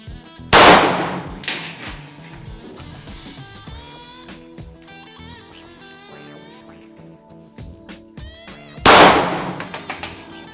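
Two sharp, loud gunshots from a Springfield XDm .45 ACP pistol firing 230-grain rounds at a range, spaced several seconds apart, each with a ringing decay and metallic clatter between them.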